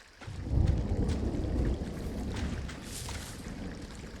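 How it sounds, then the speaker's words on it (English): A thunderstorm in the game Firewatch, with a low rumbling roll of thunder swelling early and then fading into a steady wash of rain that carries on to the end. "Hey, I heard some thunder."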